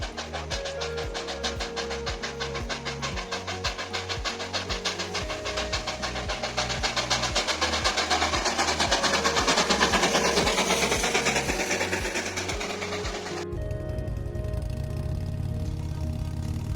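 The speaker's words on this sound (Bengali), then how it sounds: "সেখানে আবারও দেখলাম টয় ট্রেন।" Darjeeling toy train running at Batasia Loop, a steady rhythmic chuff of steam and clanking wheels up close and loud, building in intensity before the sound shifts to a rumbling roar near the end.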